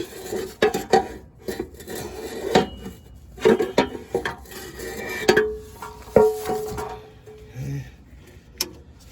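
A metal transmission pan being moved under a 2014-2018 Chevrolet Silverado: scattered clanks, scrapes and knocks of metal at close range, irregular and sharp, with no talk.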